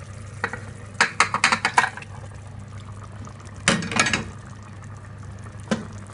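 Washed chicken pieces go into a hot frying pan for chicken majboos and get stirred: a few clustered bursts of scraping and sizzling with quiet gaps between them over a steady low kitchen hum.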